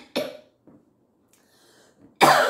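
A woman coughs twice, close to the microphone: one sharp cough at the start, then near silence with faint breathing, and a second louder cough at the end.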